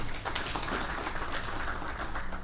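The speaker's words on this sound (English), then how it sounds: "Still a round of applause, ladies and gentlemen." An audience at the Great Lakes private sector forum breakfast launch in Uganda gives a sustained round of applause, a close, even patter of many hands clapping with no speech over it.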